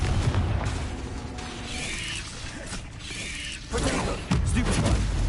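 A Confringo spell in the Hogwarts Legacy video game goes off in a loud, booming blast, followed by rumbling, clattering debris and more impacts in a busy game soundscape.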